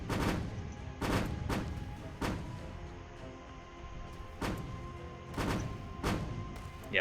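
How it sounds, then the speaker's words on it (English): Rapid naval gunfire from several Yamato battleships in a naval video game, heavy booming shots in uneven bursts over a constant low background rumble, some salvos overlapping. "there's the rapid fire on like just 1, 2, 3, 4, 5 Yamatos"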